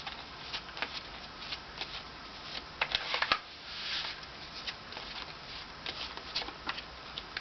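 Tarot cards are shuffled and pulled from a deck in a steady run of soft papery riffles and flicks, with brighter snaps near the middle, close and fairly quiet throughout, with no talking.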